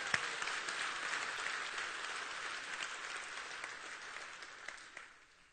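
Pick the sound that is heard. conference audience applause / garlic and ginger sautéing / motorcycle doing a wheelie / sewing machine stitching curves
conference audience applause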